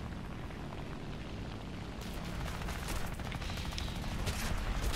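Continuous gunfire from aircraft in the War Thunder game, heavy dense bursts of shooting and impacts that grow louder and busier after the opening seconds, with no talking.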